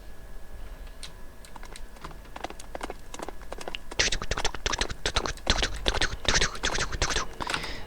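Clip-clop of a ridden horse's hooves in a ranch-building video game, crisp rapid taps that step up louder partway through, steady and close, with no speech.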